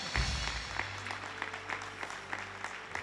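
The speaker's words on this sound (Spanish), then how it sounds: "¡Dale un aplauso a Cristo!" A church congregation claps during a sermon, a quieter round of applause with distinct individual claps over a low hum and a brief voice at the start.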